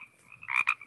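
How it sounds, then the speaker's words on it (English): A frog call from a species of the US west coast: two short, bright croaks in quick succession, the second briefly following the first, heard alone over a quiet background. "There's a frog that sounds like that, but it lives way out on the west coast of the USA"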